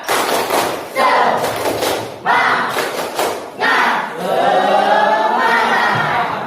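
A school class performs a rhythmic spirit clap, loud bursts of group clapping in a set pattern broken by short pauses, with voices shouting along in unison.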